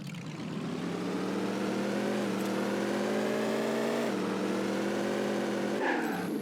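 Hot-rod style car engine in Rocket League revving steadily upward with rising pitch, loud and continuous, with a brief dip partway through and a short whoosh near the end.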